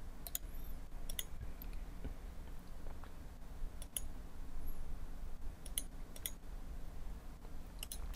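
Computer mouse clicks during work in 3D software: faint, crisp single and double clicks at irregular intervals over a low steady room hum, with no speech.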